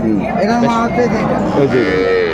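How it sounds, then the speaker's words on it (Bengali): A Sahiwal bull calf moos repeatedly at close range at a cattle market, a few drawn-out bellowing calls over a noisy background of livestock and faint voices. "শাইওয়াল ষাঁড় বাচ্চা"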